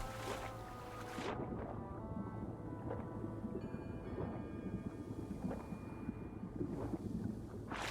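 Game water in Monsters & Memories, a low continuous wash with periodic deep surges and splashy bursts, fairly close and steady throughout, with faint tonal hums over it and no speech.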